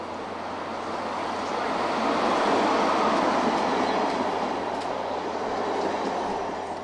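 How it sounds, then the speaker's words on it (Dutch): An Intercity train hauled by locomotive 1301 rolls past at Sittard, a continuous broad roar that swells to a peak midway and eases slightly toward the end, with no voices over it. "De volgende Intercity, getrokken door de 1301."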